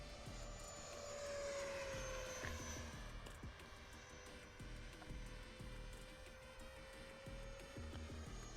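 A Freewing 70mm F-22 Raptor RC jet makes a high-speed pass. Its ducted-fan whine swells, then drops in pitch as it races by, and a fainter drone follows once it has passed.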